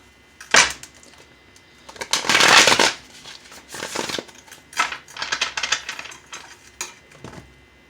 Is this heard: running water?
no